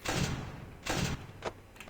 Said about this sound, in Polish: Możesz otworzyć drzwi